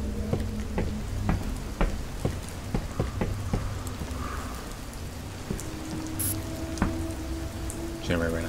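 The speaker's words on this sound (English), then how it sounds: "I got drenched in the rain." Steady rain pours in the Fears to Fathom horror game, a dense close patter on surfaces with sharper droplet ticks scattered throughout, continuous and fairly loud with no speech.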